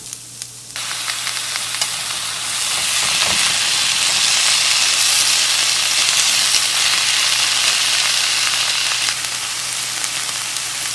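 Onions, tomato and tamarind sauté in a pan for chutney, making a loud, continuous sizzle that swells stronger after a couple of seconds and holds steady, with no talking.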